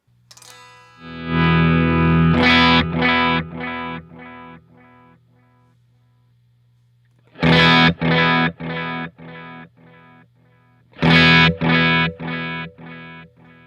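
Electric guitar chords played through a Strymon El Capistan tape echo with tape bias turned up for driven, saturated tone, three bursts each trailing off in decaying repeats, separated by near silence.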